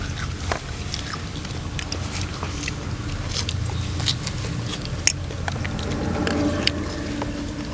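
Large crunchy apple snails being chewed close up, with continuous crisp biting and crackling over a steady rumbling outdoor background.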